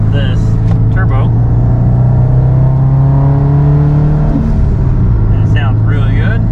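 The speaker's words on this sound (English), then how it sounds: "You guys can actually hear this turbo." A turbocharged car engine with a new motor idles loud and close with a steady low drone and a rising turbo whine, while voices talk faintly over it.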